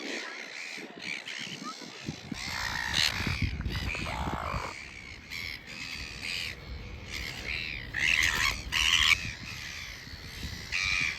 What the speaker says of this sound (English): There are so many seagulls gathering together.